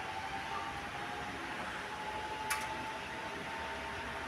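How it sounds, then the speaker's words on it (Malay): A steady whirring hum of a wall fan in a prayer room running weakly after repair of an intermittent on-off fault, with a faint tonal drone and one brief click partway through. "dia berpusing tapi angin tak kuat lah. Dia tak laju macam kipas sana."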